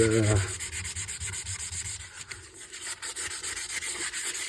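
Steady rasping rub of 180-grit sandpaper worked over a plastic part before chrome painting, a continuous close scratchy texture with slight rhythmic variation and no talk.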